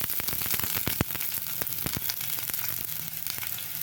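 Chopped large onion fries in a pan for an anchovy fish curry, giving a dense, steady sizzle with scattered sharp pops and crackles. The sound is close and continuous, with no talking.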